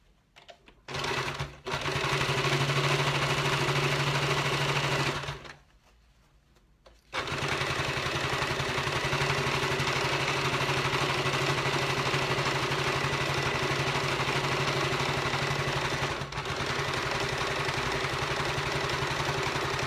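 A sewing machine topstitching a seam on a fabric mask holder, a steady fast mechanical whir running nearly throughout, broken by one short pause early on.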